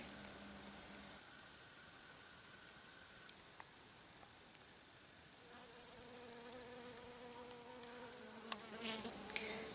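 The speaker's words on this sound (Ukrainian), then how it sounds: "А де інде на пролісках загодуть медоносні бджоли." Soft buzzing of honey bees drifts around early spring lungwort flowers, several insects humming at shifting pitches against a quiet outdoor background.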